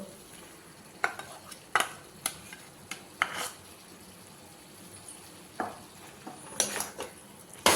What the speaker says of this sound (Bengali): এবার ভালো করে চিকেনের সাথে এই পেস্ট মশলাটা ভালো করে মাখিয়ে নেব